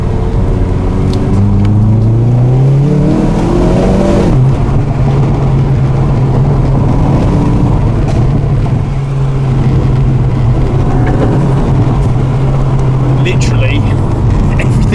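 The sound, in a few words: hot hatch car exhaust under boost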